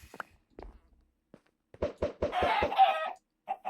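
Blocky chickens in the Minecraft modpack Stoneblock 4 cluck in a quick run of sharp, close clucks, then a longer squawking burst, with a couple of faint clicks before and a last cluck after.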